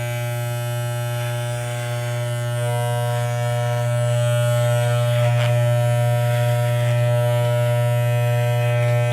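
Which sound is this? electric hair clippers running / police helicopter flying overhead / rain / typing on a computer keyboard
electric hair clippers running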